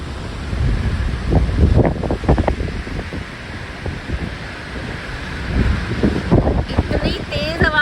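Fast, powerful water rushes loudly past a roadside stop, a steady roar mixed with wind buffeting the microphone throughout.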